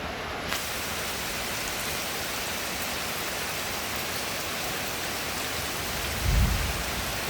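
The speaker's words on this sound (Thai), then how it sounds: "เสียงฟ้าร้องนะครับ และแล้วฝนก็ตกลงมานะครับผม" Heavy rain pours in a dense, steady hiss onto a hut at a Thai temple, and a low rumble of thunder swells briefly near the end.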